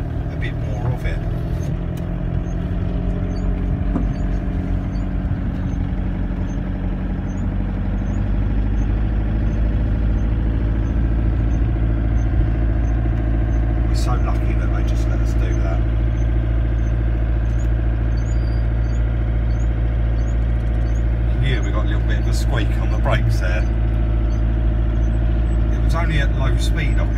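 An Autotrail motorhome is driven into an auction, its engine droning steadily and loudly from inside the cab, with a few clicks and rattles, while people talk.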